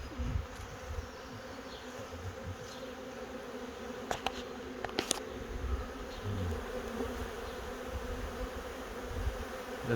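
A honey bee swarm pours into a bee house, its dense, steady buzzing drone filling the space, close and continuous, with a few sharp clicks and individual bees passing near.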